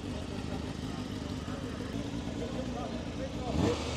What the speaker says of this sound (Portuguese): Olha o ronco aqui da moto.